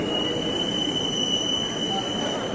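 A Coimbatore–Mangalore passenger train arrives with steady broadband rumble and a sustained high-pitched wheel squeal ringing over it, close and continuous.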